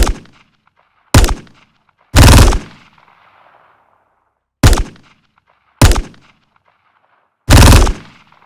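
Sharp, loud gunshots from a weapon in the Modern Warfare video game, six isolated blasts in uneven pairs, some single cracks and some short bursts, each with a brief decaying tail and silence between.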